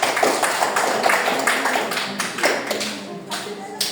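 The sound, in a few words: classroom applause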